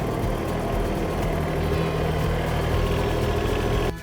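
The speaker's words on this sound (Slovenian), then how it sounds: "To je mini traktor LS MTR na 25." An LS MT1.25 mini tractor's small diesel engine idles close by with a steady, throbbing low rumble, continuous and unchanging.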